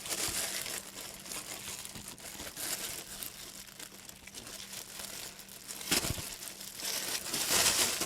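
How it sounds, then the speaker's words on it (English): A plastic bag being unpacked from a box along with bubble wrap crinkles and crumples steadily for several seconds, close and fairly quiet, with a louder rustling burst near the end. "And we've got a plastic bag."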